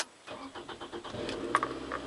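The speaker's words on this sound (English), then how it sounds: "Next, I have someone else start the car" A car engine cranks with a quick rhythmic churn from the starter, then catches and settles into a low steady idle, close and moderately loud.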